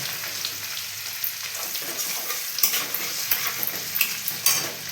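Chopped garlic and ginger frying in a pan, a continuous bright sizzle close by with light stirring scrapes and small clicks of a utensil, no voices.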